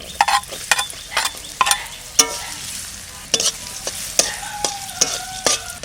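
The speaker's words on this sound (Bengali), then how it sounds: "নারকেল ভাজা হয়ে গেছে" Coconut frying in a pan during home cooking of a Bengali taro-leaf dish, with a steady sizzle under repeated sharp scraping and clattering strokes of a spatula stirring close by.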